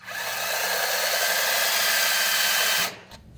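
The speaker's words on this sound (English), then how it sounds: "keep the bit cool with water, just like any other drill bit" A drill bit, kept cool with water, bores out a broken easy out lodged in a rusty broken bolt: a steady, loud whine holds for almost three seconds, then cuts off abruptly into near quiet.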